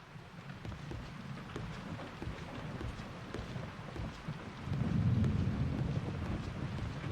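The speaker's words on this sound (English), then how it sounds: "I also like how it's raining again, much like it was then." Steady rain falls in the Yakuza Kiwami video game, a continuous moderate hiss with a low rumble that swells louder partway through, like distant thunder or heavier wind.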